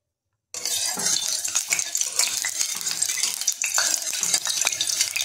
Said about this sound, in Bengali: এখন গরম তেলটাকে আমরা খুন্তি দিয়ে কড়াইয়ের চতুর্দিকে বুলিয়ে নেব।